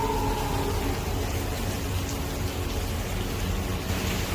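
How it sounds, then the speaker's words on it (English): Heavy rain pours down steadily in a dense, even hiss, with a faint low rumble suggesting distant thunder, heard alone without voices. "Lightning flashed, thunder roared, and a great downpour began."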